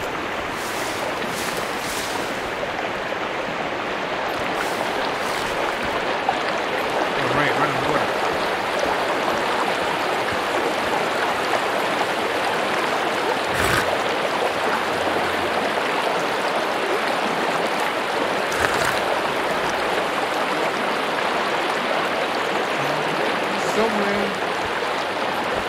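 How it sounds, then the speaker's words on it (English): A flowing water stream in the video game Sons of the Forest, a constant rushing hiss that holds steady and fairly loud throughout, broken by a few brief sharp clicks. "There's a water source."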